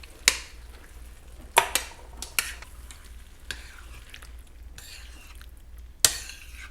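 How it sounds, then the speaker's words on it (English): Diced tomatoes tipped into a hot pan in a home kitchen, a few sharp clattering scrapes and stirs over a low steady sizzle. "Then I'm going to take my diced tomatoes and put those right in there."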